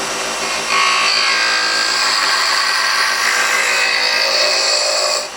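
A lathe tool cuts a spinning wooden box blank, peeling shavings in a loud, steady, continuous rushing scrape that runs unbroken for several seconds with no talking.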